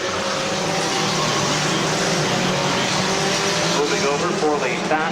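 Stock compact race cars circling Midvale Speedway in a feature race, a continuous dense engine drone under a loud commentator talking throughout.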